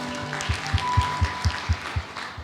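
A church congregation in Batam claps along in a steady, rhythmic beat, with about eight evenly spaced claps close by at a moderately loud level.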